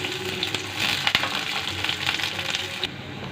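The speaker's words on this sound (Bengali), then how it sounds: "এখন দিয়ে দেব পেঁয়াজ কুচি করে রেখেছিলাম ওগুলো দিয়ে দিলাম কাঁচামরিচ" Chopped onions and green chillies sizzle and crackle steadily in hot oil in a pan, with occasional stirring scrapes, close and continuous with no talk.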